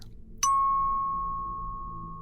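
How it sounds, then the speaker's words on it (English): A single meditation bell struck once, giving a clear bright ding followed by a long, steady ringing tone that slowly fades over a quiet background. "The bell is calming."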